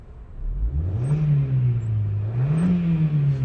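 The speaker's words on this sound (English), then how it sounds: "I'll just give it a quick rev so you can have a listen to that engine." A 145k-mile Honda Jazz supermini's engine revs up and settles back, then revs again, a loud, smooth, close-up engine note with no talking.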